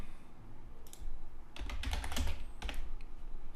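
Someone types on a computer keyboard nearby, quiet scattered keystrokes at first, then a denser burst of clicking taps and a few more after, with no talk.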